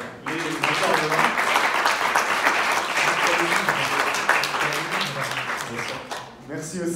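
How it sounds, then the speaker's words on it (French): An audience applauds the speakers at an evening talk: dense, sustained clapping from a crowd that thins out near the end, where a voice briefly speaks. "On peut applaudir encore les intervenants."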